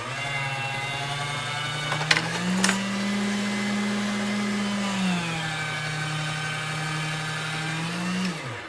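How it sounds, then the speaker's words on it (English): Hand-cranked pasta machine rolling polymer clay through its widest setting, a steady mechanical whir with a tone that rises and falls as the clay passes, plus a couple of sharp clicks. "now I'm going to run these through my pasta machine on a 0 first"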